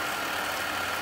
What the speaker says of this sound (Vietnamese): cái này là mô tô chạy bình thường nè